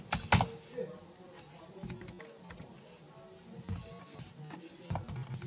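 Typing R code on a computer keyboard, irregular close clicks and taps with brief pauses and a couple of louder key strikes, no talking over them.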